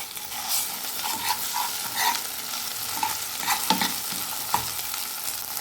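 Ginger garlic paste fries in a pan for egg fried rice, giving a steady close sizzle broken by regular spatula scrapes and taps as it is stirred, with no talking.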